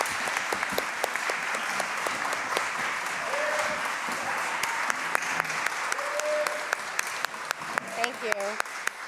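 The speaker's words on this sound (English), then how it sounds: "a round of applause for the at-large candidates" Audience applause for at-large city council candidates at a League of Women Voters candidates forum in New Britain, a steady wash of clapping from a crowd in a hall, sustained throughout with a few sharper nearby claps and brief voices.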